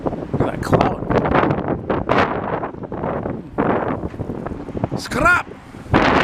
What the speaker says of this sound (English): It's too damn windy.